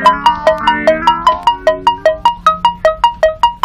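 A mobile phone ringtone plays a bright repeating electronic melody, about a dozen evenly spaced chiming notes, loud and close, with no voices over it.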